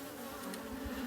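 Honey bees drone in an opened hive, a brief, faint, steady hum with a soft low rumble beneath.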